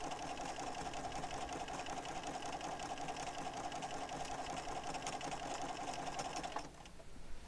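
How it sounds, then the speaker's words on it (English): A sewing machine runs steadily, stitching a slight zigzag stitch with a fast, even mechanical whirring and rapid needle ticking close by, then stops abruptly near the end. "as we sew this one, we will see a slight variation from just a straight line"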